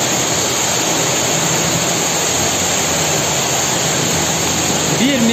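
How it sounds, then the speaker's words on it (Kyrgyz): Water from a well pipe fitted with a 100 mm hose gushes out in a loud, steady rush close by, with no break in the flow, and a brief voice comes near the end. "агып келаткан суу суткасына 300 тоннага чейин толтурат"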